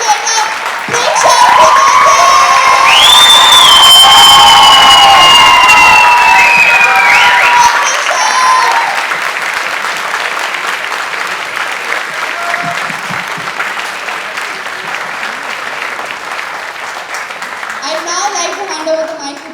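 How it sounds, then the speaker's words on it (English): Loud applause and cheering from an audience swell up, peak, then taper to scattered clapping as a voice speaks near the end. "Let's put our hands together and have a big round of applause"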